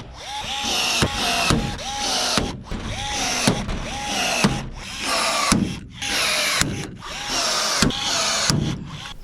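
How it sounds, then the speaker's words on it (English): A jamming rivet gun sets large rivets in repeated bursts, each a loud whirring pull followed by a sharp snap, about six cycles in a steady rhythm, close and with no talking. "This rivet gun right here, guys, got jammed after almost every rivet with the big ones."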